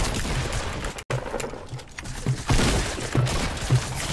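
Sniper rifle shots in the video game Fortnite: a few sharp, punchy in-game cracks sound among rumbling gunfire and effects, with a sudden brief cutout early on.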